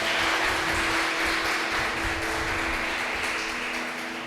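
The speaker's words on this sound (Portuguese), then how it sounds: "Você pode levantar um aplauso ao Senhor pela sua palavra?" A church congregation at Igreja Ebenézer applauds during a sermon, a steady, dense wash of clapping with a faint low hum underneath, easing slightly toward the end.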